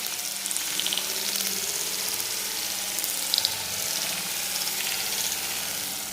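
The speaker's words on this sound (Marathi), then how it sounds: "लगेच त्याच्यात आपल्याला एक बारीक कापून घेतलेला कांदा टाकायचा आहे" Finely chopped onion frying in oil with cumin seeds for a restaurant-style cashew curry, a steady broad sizzle with watery crackle running throughout, close and fairly loud with no voices.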